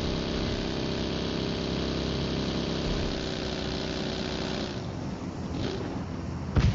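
A motorbike engine in the battle royale game PUBG Mobile drones steadily at a low, even idle-like rumble, close and continuous, with a brief clunk near the end.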